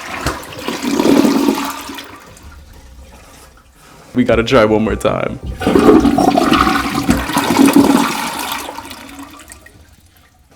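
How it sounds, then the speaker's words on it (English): A hotel toilet in a budget Toronto room flushes loudly and nearby, a rushing swirl of water that drains and refills, with a person speaking briefly between the surges. "Let's see if the toilet makes weird noises."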